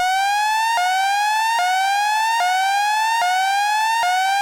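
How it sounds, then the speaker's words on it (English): A buzzy ARP 2600 sawtooth tone, pitch-modulated by another sawtooth, repeatedly sweeps upward and snaps back down, a steady siren-like cycle about every 0.8 seconds, loud and continuous. "we're having a sawtooth being modulated by another sawtooth in terms of pitch"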